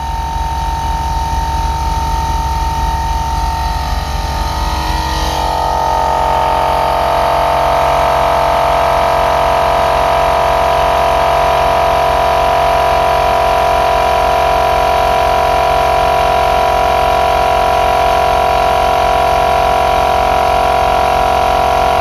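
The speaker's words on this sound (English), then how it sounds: "If it drops below a certain point, compressor kicks right back on, brings it back up to 135." A Jeep Grand Cherokee ZJ's on-board air compressor runs loud and close as a steady droning whir that shifts into a firmer, even tone a few seconds in and then holds unbroken to the end.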